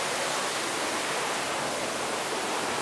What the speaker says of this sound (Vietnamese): Mọi người có nghe thấy tiếng thác chảy không nhỉ?